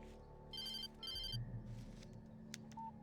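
A telephone rings in the video game Alan Wake Remastered, two short electronic trill bursts heard fairly faintly over a low ambient hum.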